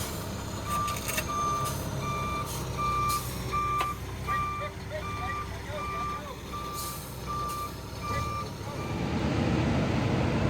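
A concrete truck backing in for a slab pour at a home addition job site sounds a steady series of evenly spaced reversing beeps over a low diesel rumble, with traffic noise around and the engine swelling louder near the end.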